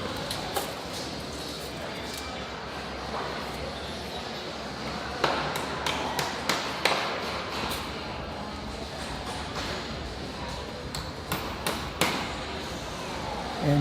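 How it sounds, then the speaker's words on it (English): At an electrical apprentice championship, a hammer nails outlet boxes in place. Scattered light taps and sharper knocks come at an uneven pace over a steady hall ambience. "nailing on another outlet box, trying to get it just right"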